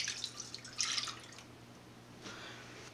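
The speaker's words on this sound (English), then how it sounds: "in this pan we're gonna put 1 cup of milk" A cup of milk is poured into a pan in a home kitchen, giving short splashy bursts of liquid that come and go in three brief spurts at close range, with no talking.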